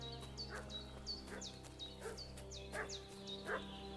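Dog barking in Kingdom Come: Deliverance 2, a steady run of yipping barks about twice a second, moderately close over a low in-game ambient hum, with birdsong in the background.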